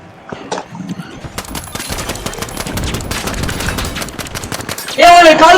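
Rapid automatic gunfire in a THE FINALS match: dense bursts of near shots rattle on continuously, with a louder blast or burst near the end and voices talking over the action.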